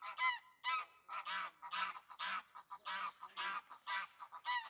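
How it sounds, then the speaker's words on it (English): Geese at a fishing lake honk in a rapid series of loud, nasal calls that overlap and repeat nearby without pause. "there's so many ducks and geese and swans"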